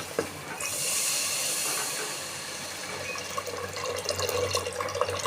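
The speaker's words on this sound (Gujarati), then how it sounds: "આમાં આપણે પાણી નાખીશું" Water poured from a glass into spicy Kathiyawadi potato gravy, a rushing splash and hiss for a couple of seconds, then bubbling and faint clinks as it settles in the pan.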